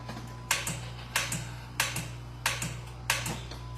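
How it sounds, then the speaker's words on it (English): A faulty starter solenoid on a 2016 Jeep Compass clicks sharply in pairs at a steady rhythm, five double clicks in a row over a constant low engine-like hum. "it's been doing the little clicking sound. So I'm gonna let y'all hear this clicking sound"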